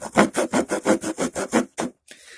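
A Sanrenmu 7117 LUX LY T5 multitool knife's saw blade cuts wood in about nine steady, rhythmic strokes, close and fairly loud, then stops abruptly with a short pause and light handling noise.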